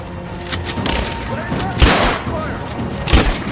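Gunfire in the video game Rise of the Tomb Raider: a few heavy thumping shots and distant bursts amid a noisy battle, with voices shouting over the combat.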